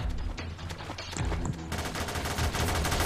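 Gunfire in the video game Garry's Mod, with dense bursts of rapid shots playing continuously over a low rumble and growing heavier in the second half.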